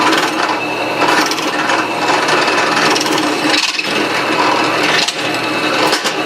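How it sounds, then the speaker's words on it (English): A drill bores 5/8-inch holes through plywood pieces held in a vise, giving a steady, loud, close grinding whir with brief dips as the bit pushes through. "I got to go drill 5/8 holes in each one of these centered."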